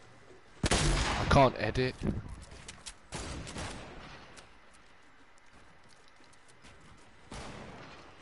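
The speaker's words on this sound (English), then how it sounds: "They're shooting my base down." Gunfire in Fortnite battle royale strikes a player's built base, a few loud sharp bursts near the start and another later, with players talking over and between the shots.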